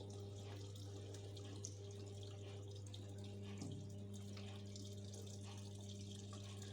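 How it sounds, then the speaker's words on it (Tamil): Water flowing steadily into a seven-year-old Samsung top-load washing machine during its rinse fill, a continuous close pour over a low motor hum, with no talking. "இப்போ பாருங்கள், தண்ணி விழுகும்."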